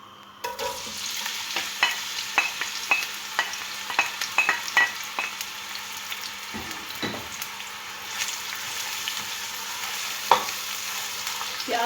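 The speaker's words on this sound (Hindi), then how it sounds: "अब मैं इसमें प्याज को फ्राई कर लूँगी।" Onions frying in a cup of oil in a deep cooking pot for chicken biryani, with a steady sizzle and repeated stirring scrapes and clinks close by, no talking.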